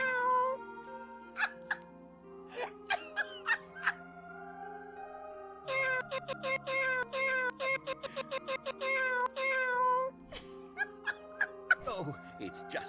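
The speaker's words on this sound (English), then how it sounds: "Oh, it's just a cat." Cat meowing in the Re:Zero The Prophecy of the Throne video game, a run of short, high meows and mews in bursts, some rapid and repeated, over quiet game music.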